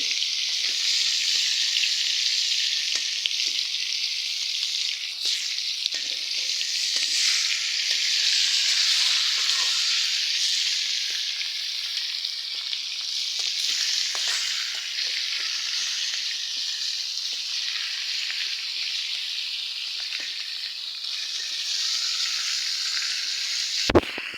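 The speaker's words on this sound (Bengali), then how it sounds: "আমি মাছ ভালো করে ভেজে নিলাম" Rohu fish fry in a pan with a loud, continuous sizzle and crackle throughout, steady and close with no talk.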